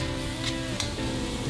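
Egg, shrimp and char siu fry in a hot wok for Xiamen fried vermicelli, giving a steady close sizzle with a couple of brief scraping stirs, no talk.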